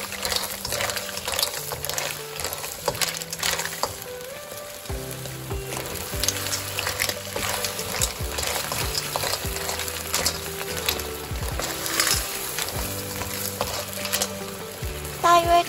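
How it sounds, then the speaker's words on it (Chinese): Clams stir-fry in a hot wok with vegetarian mushroom oyster sauce, a steady loud sizzle broken by repeated scraping and clattering of the spatula, with no talk. "就要赶快加入香菇素蚝油，快速搅拌均匀，这时候蛤蜊会逐渐打开"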